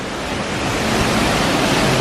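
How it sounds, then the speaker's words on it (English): A waterfall, seen after rain, rushes with a steady, dense broadband roar, fairly loud and continuous with no voices. "Waterfall."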